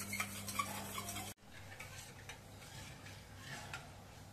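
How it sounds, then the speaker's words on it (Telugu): Four eggs being stirred with salt, chili powder and pepper in a bowl, a utensil ticking and scraping in quick repeated strokes, close and fairly faint, with a brief pause partway through. "నెక్స్ట్ సరిపడినంత సాల్ట్ తీసుకొని బాగా కలిపేయాలి."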